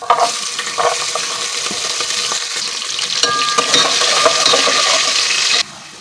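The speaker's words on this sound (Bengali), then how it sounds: "দিয়ে দেবো জিরে আর দিয়ে দেবো পেঁয়াজ আর রসুন।" Cumin, onion and garlic hit hot oil in a kadai, giving a loud, steady, close sizzle with faint stirring scrapes and small utensil clinks running throughout.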